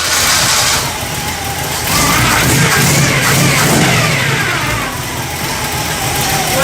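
327 V8 in a 1965 Chevy C10 pickup starting and running, a loud, rough engine roar with swelling revs and steady rumble close by, no speech.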